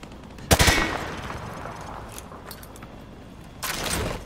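In Call of Duty MW2 Remastered, a weapon fires through light cover: a loud, close burst of rapid shots, then a quieter stretch, then a second burst near the end.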